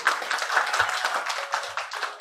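Audience at a birthday celebration concert clapping for a performer, a steady burst of close, moderately loud applause lasting a couple of seconds with no talk over it.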